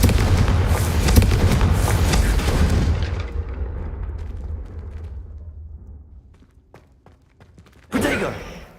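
Fiery Confringo spell blasts in Hogwarts Legacy burst out loud and dense for a few seconds, then rumble away into a fading tail, and one more sharp blast erupts near the end.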